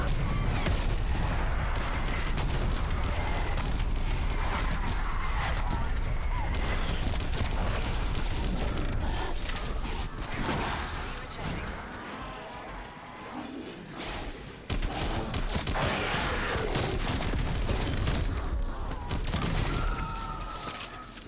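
A called-in artillery strike in Black Ops Cold War Zombies Outbreak: a loud, continuous barrage of blasts and rapid gunfire with crashing debris. It eases briefly midway before surging again, and a voice is faintly heard under the chaos.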